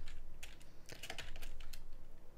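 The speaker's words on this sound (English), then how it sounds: "Just let me type this thing first" Typing on a computer keyboard: quiet, irregular clicks and taps of keys in short bursts, close and soft, with no talking.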